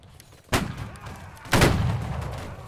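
Two loud, booming musket volleys from Civil War reenactors at a line battle ring out about a second apart, each a broad blast with a lingering outdoor rumble.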